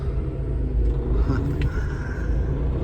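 Tow truck driving home in the evening, a deep steady engine rumble heard from inside the cab with constant road noise and faint rattles, loud and close throughout.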